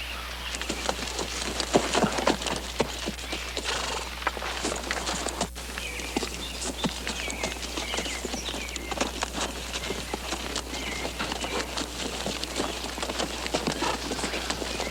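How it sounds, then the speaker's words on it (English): Horses' hooves clip-clop steadily on open plains, with continuous rustling and movement throughout, moderately loud and without speech; no distinct neighing stands out. "Eddie, you hold the horses"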